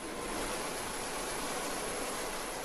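Federal police rescue helicopter hovering about 20 meters above floodwater, a constant loud broadband rotor and turbine roar with downwash spray, unbroken and close throughout.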